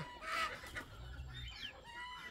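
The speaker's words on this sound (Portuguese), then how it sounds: "Galinha gritando pra cima, essa aqui é novidade." A farm chicken squawks loudly in a few sharp, rising cries, close and clear over quiet outdoor background.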